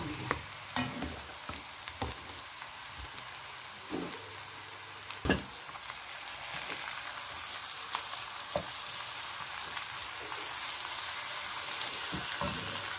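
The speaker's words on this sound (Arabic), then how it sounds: "يلا حبايبي كده حمرت البصله كده" Onions browning in a pan, with a continuous close sizzle broken by occasional clacks and scrapes of a utensil stirring, and a low hum underneath.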